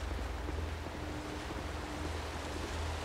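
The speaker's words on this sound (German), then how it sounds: "Das ist Wasser, was über uns kommt." Water rushes and washes over the player character in the dark fantasy video game Dark Souls 2, a steady broadband surf-like roar with a low rumble, continuous and fairly loud throughout, with no talking.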